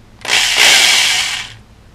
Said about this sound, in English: Piece of tubing in a drill.